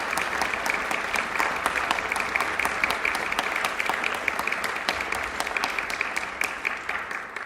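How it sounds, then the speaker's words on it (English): Applause rises from the audience at a WPI wind band concert, steady dense clapping of a sizable crowd in a hall, sustained and even throughout. "can we please give them a round of applause?"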